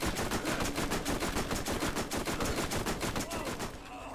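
Rapid automatic gunfire in the video game Borderlands, a loud, dense stream of evenly spaced shots that runs almost without pause before easing off at the very end.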